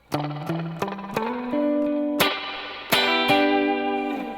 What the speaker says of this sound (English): say I want to switch the reverb to like a spring, right? So that sounds like this.